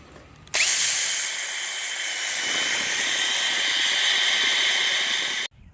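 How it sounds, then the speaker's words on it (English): Power drill whines steadily for about five seconds, drilling out stripped, painted-over Allen bolts on a lamp post, loud and close with a high grinding tone, starting and stopping abruptly. "The Allen bolts that hold the sections together are stripped and been painted and won't come out, so I'm in the process of drilling them out"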